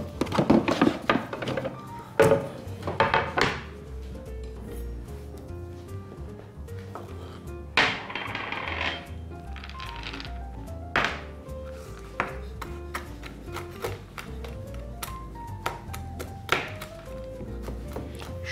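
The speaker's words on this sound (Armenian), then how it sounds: "Հիմա անցնենք պիստակին և նուշին, հարկավոր է մանրացնել" A knife chops pistachios and almonds on a board for ekmek kadayif, giving irregular thuds and taps in loose bursts with pauses between them, close and fairly clear.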